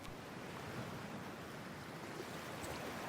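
Steady broadband water wash in Cyberpunk 2077, a continuous surf-like rush of cold water that holds at an even level with no talk over it.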